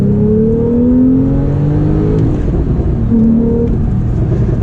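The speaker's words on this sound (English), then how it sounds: "Let's do a little acceleration here." A loud Porsche 911 Carrera twin-turbo mid-engine sports car engine revs up steadily, with rising harmonic tones showing hard acceleration and a gear change partway through. No voices.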